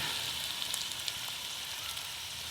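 A tadka tempering for turnip greens saag sizzles in hot oil, a dense, continuous crackling hiss with scattered sharp pops, close and fairly loud throughout.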